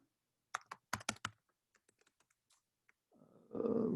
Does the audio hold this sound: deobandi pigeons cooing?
no